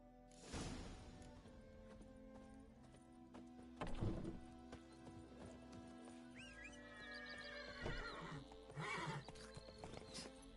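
A horse in the Witcher 3 video game whinnies and snorts close by while hooves clip-clop steadily beneath, with a couple of louder thumps and a sharper neigh near the end.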